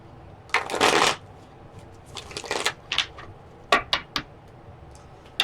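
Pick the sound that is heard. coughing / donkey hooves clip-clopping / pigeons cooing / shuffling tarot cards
shuffling tarot cards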